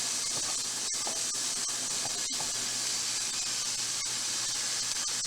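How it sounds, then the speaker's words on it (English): Onions sizzle in a hot pan, a steady, close hiss of frying that runs throughout with no talk over it. "Hey, got a little sizzle. That's good."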